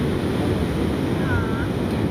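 Ocean waves breaking on a beach where surfers are out: a steady, continuous wash of surf with wind buffeting the microphone, no distinct individual crashes, just an even roar throughout.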